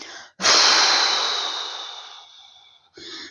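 A person forcefully blows out a long breath after holding it during a relaxation exercise, a loud airy whoosh that slowly fades over about two seconds, framed by softer breaths before and after.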